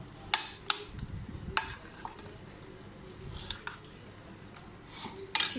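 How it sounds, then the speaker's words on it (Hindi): Yogurt-marinated chicken frying in a pan, a quiet low sizzle punctuated by a few sharp clinks and scrapes of a utensil against the pan. "मैं अब इसको फ्राई कर रही हूँ।"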